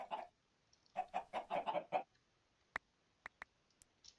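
Minecraft chickens cluck in a rapid run of short, soft clucks. A few sharp little clicks follow in the quiet afterward.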